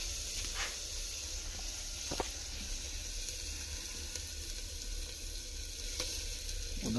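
Ginger-garlic paste sizzles with browned onions in a clay pot for chicken, a soft, steady frying hiss with occasional faint stirring clicks, heard alone.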